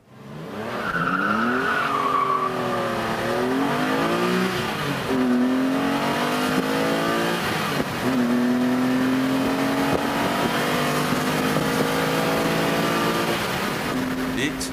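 A TVR with a 3.6-litre straight six and a Porsche Boxster S accelerate hard in a test, engines revving loudly and climbing through rising gear changes over a long continuous run, with tire squeal and talk at times.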